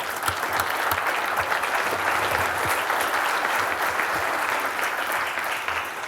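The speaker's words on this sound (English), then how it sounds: "Let's give them a round of applause." An audience applauds a group of presenters with steady, full clapping from a roomful of people. It stays at a constant level for about six seconds with no speech on top.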